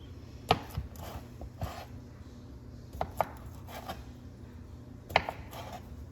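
A knife slices food on a cutting board in a cooking lesson, giving a handful of sharp, widely spaced taps and knocks at a modest level over a quiet room.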